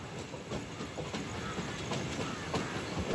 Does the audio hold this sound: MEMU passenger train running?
yes